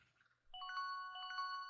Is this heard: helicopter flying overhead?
no